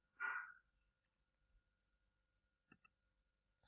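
A single soft computer mouse click near the start, then a few faint ticks in a quiet room while navigating a software dashboard.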